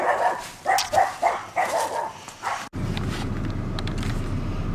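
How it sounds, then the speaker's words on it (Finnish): Several dogs bark in a countryside setting, a run of loud, close, rhythmic barks with some yips, then an abrupt cut to a steadier, quieter background of distant noise. "No sieltä on koiria."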